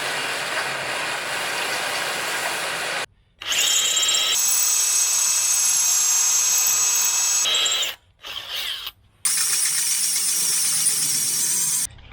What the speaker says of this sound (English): I'm just gonna cut it off.